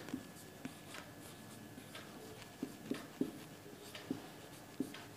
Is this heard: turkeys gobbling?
no